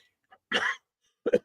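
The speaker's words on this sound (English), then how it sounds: "I don't know why I'm coughing so much today" A single sharp cough bursts out, followed after a short pause by a second cough, close to the microphone with silence around them.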